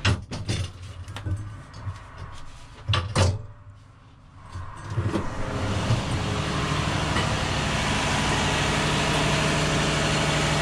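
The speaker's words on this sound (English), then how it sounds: "These engines, they are Caterpillar 3508B" Caterpillar 3508B engines idle in a superyacht engine room, entered after a watertight door opens with some knocks and clunks; a steady, loud mechanical drone then fills the space continuously.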